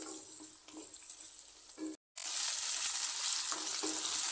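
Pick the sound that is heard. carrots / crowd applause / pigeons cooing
carrots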